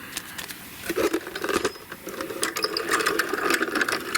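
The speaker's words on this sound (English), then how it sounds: "I'm going to run it through the machine this time" A Diamond Press cardmaking machine feeds a card through with a texture paste and foil layer, giving a close, steady ratcheting, gear-like clicking that builds slightly louder over a few seconds, with no talking.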